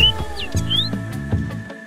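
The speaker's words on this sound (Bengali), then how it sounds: "আর এখানে প্রচুর পাখি রয়েছে, যার কিচিরমিচির শব্দে আপনার মন ভরে যাবে।" Small birds chirp in forest near a hill village, giving a few quick high tweets over a steady background hum and some low rustling, fairly close but light.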